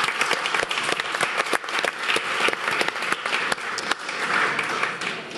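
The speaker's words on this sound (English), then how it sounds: "Let's give him another round of applause." An audience at a political summit applauds, a dense, loud wash of clapping that carries on steadily throughout with no pause.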